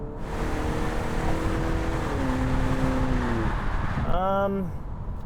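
A 2017 BMW 530e G30 plug-in hybrid sedan accelerating hard to pass cars, a rising engine drone heard from inside the cabin that climbs in pitch, with a voice briefly speaking near the end.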